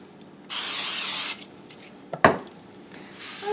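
A short, loud burst of cooking spray hisses close by onto a buttered pan for about a second, followed by a clank of the pan and quiet kitchen sounds.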